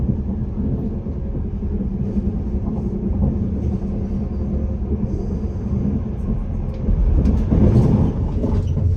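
A Northern Trains service runs from Leeds to Halifax, heard from inside the carriage as a steady low rumble with faint rail clatter that swells slightly near the end.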